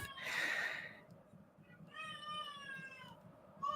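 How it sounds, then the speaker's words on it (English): A young child having a tantrum in the background of a home, crying and wailing in high, strained bursts at moderate distance. "That's not a cat. That's a baby. It's a child, yes, having a paddy."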